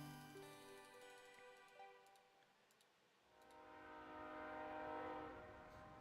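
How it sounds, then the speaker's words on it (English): A train rumbles past with a sustained horn-like tonal blare that fades and then returns as a louder, broader roar of rolling wagons, with a few faint clicks on top. "Train noise."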